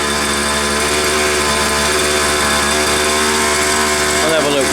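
A small dirt bike engine revs loudly and continuously up close, a buzzing, raspy motor note that holds high, with slight pitch shifts toward the end.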